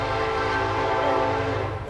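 A train passes close by in Brinkley, its horn sounding loud and sustained over the deep rumble of the rolling rail cars, with no talking.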